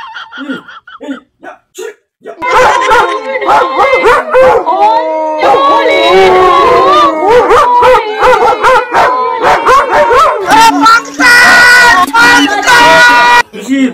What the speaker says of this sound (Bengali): এই সারা কুকুর এসে গেছে রে